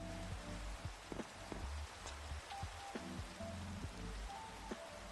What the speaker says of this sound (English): I'm building in the rain.